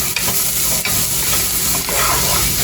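Grated beans, carrots and sweet corn being stirred in a hot frying pan, a loud continuous sizzle with repeated scraping strokes of the spoon, close up and without talk.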